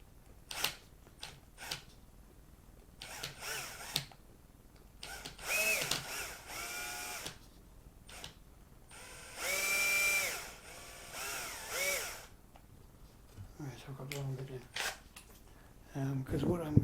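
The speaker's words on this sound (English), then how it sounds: "This is my little Bosch drill." A Bosch cordless drill whirs in several short bursts, rising and falling in pitch between pauses, with occasional clicks and a voice speaking in places.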